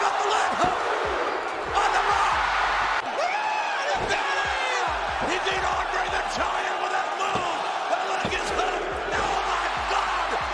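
A packed wrestling arena crowd roars continuously after The Rock kicks out of a near fall, a dense, sustained wall of cheering with whoops and shouts rising through it, while a commentator's voice is heard over the noise.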